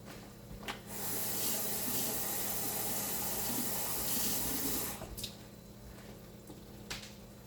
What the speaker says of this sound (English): I'm going to add a little water to this.